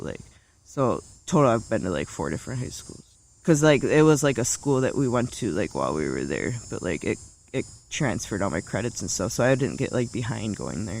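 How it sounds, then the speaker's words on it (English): A cicada buzzes steadily in the background as a continuous high insect drone beneath close conversational speech. "There's a cicada in the background."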